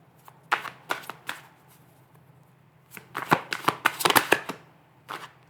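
Tarot cards are shuffled in short, crisp riffling bursts, a few separate flicks followed by a quicker cluster of papery snaps, close and clear against a quiet background.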